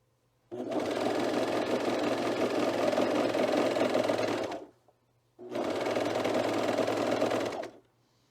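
Sewing machine stitching a hood band on a cat-ear hood, two steady runs of fast, even motor whirring with needle chatter, each lasting a few seconds, separated by a short pause, close and alone.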